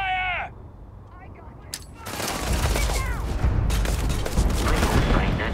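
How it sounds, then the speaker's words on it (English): Automatic gunfire erupts in a Starfield firefight, starting sparse and then swelling into a loud, sustained fusillade of rapid shots with voices mixed in underneath. "Open fire!"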